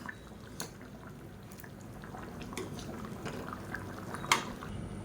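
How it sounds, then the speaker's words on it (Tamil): Rice and dal are stirred with water in a cooking pot, making quiet wet squelches and faint drips with an occasional light clink, close and soft. "இந்த அரிசி வந்து அதாவது சாதம் நல்லா கரையிற மாதிரி நல்லா கலந்து விட்டுக்கலாம்."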